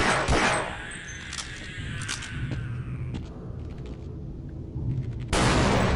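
Explosions and gunfire crack through a game of Half-Life: Blue Shift, sharp loud bursts in quick succession followed by debris rattle and a final heavy blast.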